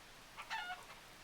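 Chickens cluck in the Harvest Moon: Save the Homeland video game, with a short burst of soft, close bird calls in the middle of an otherwise quiet stretch.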